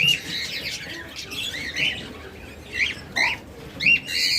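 Lovebirds in a bird shop give sharp, repeated chirps and squawks in irregular bursts, fairly close, over a low background hum.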